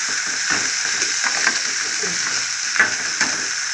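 Onion paste frying in a pan for a prawn fry gives a steady, close sizzle with occasional soft scrapes and clinks from stirring, and no voices.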